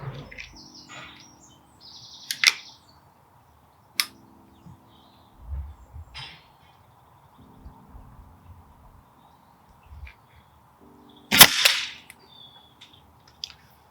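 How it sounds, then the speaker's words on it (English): A Weihrauch HW80k spring-piston air rifle fires about half a dozen sharp, separate shots spaced a few seconds apart outdoors, each a crisp crack with a spring twang, while birds chirp faintly in the background. "half a dozen shots at 30 meters"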